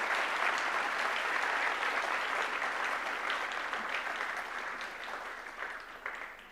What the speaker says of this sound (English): Please join me in one more round of applause for our wonderful panelists